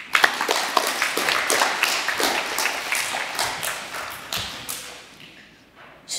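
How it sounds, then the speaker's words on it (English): Students and staff at a school presentation day applaud the office ladies with a sustained round of clapping, dense and even at first and gradually thinning out toward the end. "Please give them all a round of applause."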